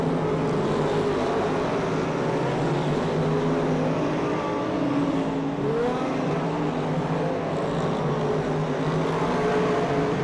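Race cars on the Robertson Prestige International Speedway track make a continuous, loud roar of engines that holds steady without distinct individual passes, and no voices are heard.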